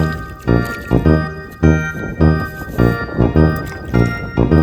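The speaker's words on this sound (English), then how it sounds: "Finally, rinse the whole toy with water again." Water splashing and pouring over a muddy toy car as it is rinsed clean, in repeated bursts of squishy, sloshing liquid close up with short pauses between pours.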